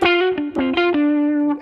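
A heavily distorted guitar through a Source Audio Artifakt Lo-Fi Elements pedal sustains a buzzy, saturated note, with brief picked attacks breaking in at a few points; no voices.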